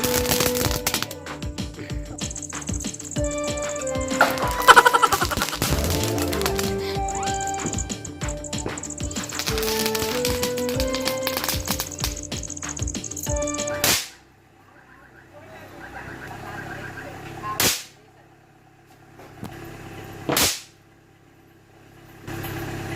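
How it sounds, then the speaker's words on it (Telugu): Diwali rope bomb firecrackers set off at home: three sharp, loud bangs a few seconds apart, each ringing briefly, after a stretch of festive music. "డిఫరెంట్ ఉన్నాయి తాడు బాంబులు"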